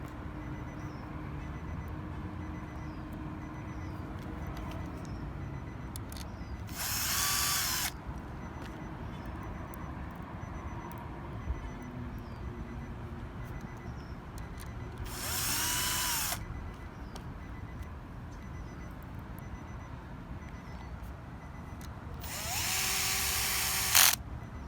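Power screwdriver driving three screws back into the dash trim of an Infiniti QX80 during a CarPlay install, three short whirring bursts spaced several seconds apart over quiet room tone.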